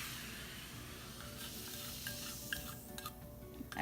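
A fizzing baking soda and vinegar mixture crackles and sizzles as it is stirred into vegan peach upside down cake batter. The sound is quiet and close, with scattered pops and spoon scrapes and no speech.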